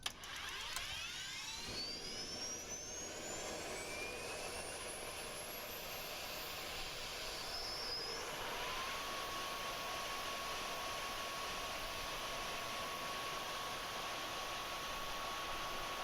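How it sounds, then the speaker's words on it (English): The auxiliary power unit of a Tornado jet spins up in a flight simulator, a rising whine climbing steadily over constant hissing air noise before settling into a steady high tone, with no talking. "And then we are ready for APU start."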